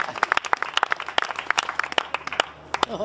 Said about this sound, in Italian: facciamo un applauso a Emanuele e ai suoi genitori